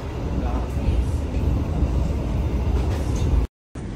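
Inside a moving passenger train carriage in Indonesia, a steady low rumble and rolling noise fills the space at a constant level, cut by a brief dropout near the end.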